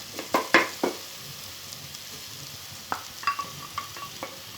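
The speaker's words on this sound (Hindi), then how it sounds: "इसको मैं धीमी धीमी आंच पर इस मसाले को इसमें प्याज और टमाटर में मिक्स कर दूंगी।" Masala stirred into onion and tomato frying on low heat for apple gourd curry, with a soft sizzle beneath several clinking spoon scrapes against the pan in short clusters.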